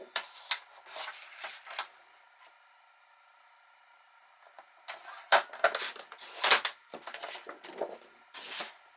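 A sheet of acetate, roughly 4 by 6 inches, being cut by hand, giving a series of short, close crisp snips and rustles in two bursts with a quiet pause between them.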